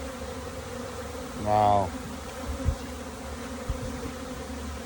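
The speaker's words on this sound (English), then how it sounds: "There are bees everywhere right now." A honey bee swarm buzzes outdoors in a steady low drone, with one louder bee passing close by for a moment; a voice briefly exclaims over the hum.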